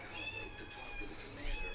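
A cat gives a drawn-out, fairly faint meow indoors, one rising and falling call that lingers over a quiet room background.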